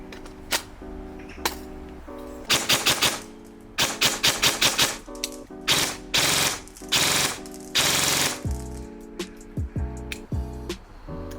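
A G&G Cobalt Kinetics airsoft rifle fires in rapid bursts and single shots, loud and close, with sharp mechanical clacks repeating in quick rhythmic strings over about eleven seconds, with a faint electric hum between volleys.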